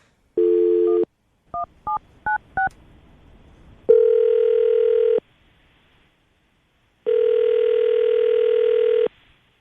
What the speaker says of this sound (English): we're going to call him right now